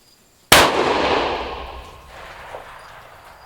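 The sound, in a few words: rifle shot from Tikka T3x Roughtec 6.5 PRC with radial brake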